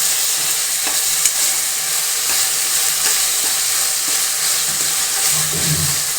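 Ginger garlic paste frying in a pan for a country chicken fry, a loud steady sizzle and hiss with regular stirring scrapes, close up and continuous, no talking.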